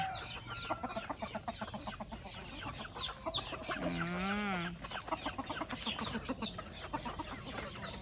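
Farm chickens cluck in a rapid, busy stream at a Thai home orchard, with one louder drawn-out call in the middle, all fairly near and continuous.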